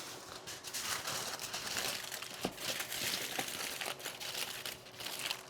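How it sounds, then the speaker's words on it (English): A sheet of aluminum foil crinkles and crumples continuously while being pressed around a baking pan, close but fairly quiet, with no talking. "Get yourself a piece of foil, put your pan under it,"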